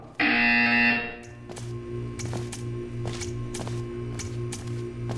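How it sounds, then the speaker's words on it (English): A loud electronic buzzer tone from the video game Portal 2 blares for about a second, followed by a steady rhythmic mechanical clatter with regular ticking pulses. "When you hear the buzzer, stare at the art."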